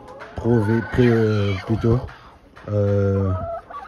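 Hens in nest boxes, one of them going broody, cluck and call in drawn-out bursts: two close groups of tonal clucks, a short break, then another long call nearby.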